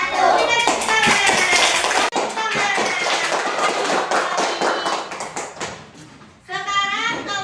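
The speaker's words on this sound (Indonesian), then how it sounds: "Berikan tepuk tangan." Students in a classroom break into loud, sustained applause with a few children calling out, the clapping briefly dipping before swelling again near the end.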